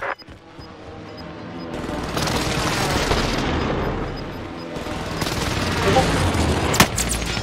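Airstrike in a combat video game: heavy booming explosions rolling into a sustained roar, mixed with rapid bursts of gunfire, loud and close throughout.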